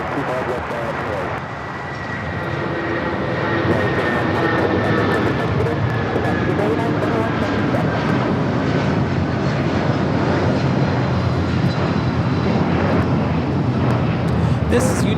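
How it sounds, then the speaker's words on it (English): United Airlines Boeing 757-200 jet taking off from Los Angeles airport bound for Newark, a sustained loud roar of engines building and holding steady, heard from a distance with faint talk in the background. "2127 taking off to Newark on the 757-200"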